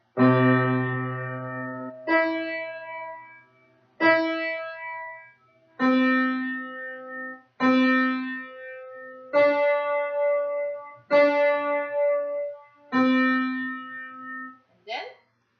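Piano notes struck in a slow, steady series, each pairing middle C in the right hand with C3 in the left, ringing out and decaying before the next, ending with a brief high note.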